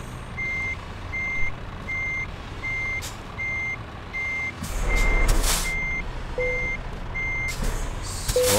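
Reversing beeps from a truck being parked in the Euro Truck Simulator 2 game, a steady run of evenly spaced electronic beeps, with short bursts of air-brake hiss breaking in near the end.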